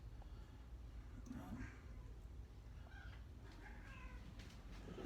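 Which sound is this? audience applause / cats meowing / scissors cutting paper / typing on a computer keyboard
cats meowing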